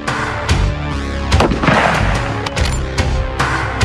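Magnum rifles fire hand-packed rounds on an outdoor firing range, giving sharp, loud reports at irregular intervals, several close together, over a dense layer of background music.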